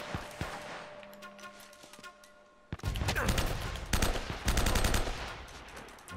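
Gunfire in the action-adventure game Uncharted: Drake's Fortune, a few scattered shots at first, then a loud burst of rapid automatic fire with sharp repeated cracks, close and dominant, with no talking.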